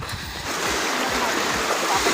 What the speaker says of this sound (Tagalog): medyo malakas yung agos mga adventure iba na yung ano iba na yung current ng daloy ng tubig